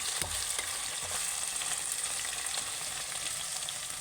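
Okra sizzles and crackles steadily as it fries in a pan, close and continuous with a few soft stirring knocks, and no one speaks.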